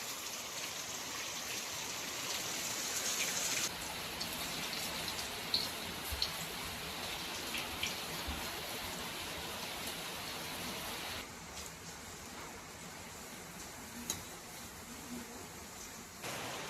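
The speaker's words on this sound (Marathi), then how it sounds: "पावसाला बाहेर अजून जोर चढतोय बघा." Heavy monsoon rain pours steadily outside on a cold, wet day in the Konkan countryside, a continuous dense hiss of drops on surfaces with a few louder splats, the downpour easing slightly toward the end.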